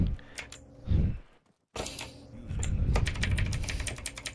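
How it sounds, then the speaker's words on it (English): Loud, rapid typing on a computer keyboard rattles in dense bursts, breaks off for a short silence, then resumes and carries on steadily, close and prominent on a voice chat during an Arma III session. "Who in the hell's typing loud?"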